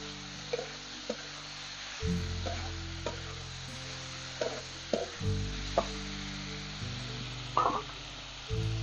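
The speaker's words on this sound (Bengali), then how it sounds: "লবণটা দিয়ে ভালো করে আবার নাড়াচাড়া করে একটু মিশিয়ে নিচ্ছি।" Amla pickle with black salt is stirred in a pan, with soft scraping and clinking of the spoon against the pan over a low sizzle and intermittent low hum, close and quiet.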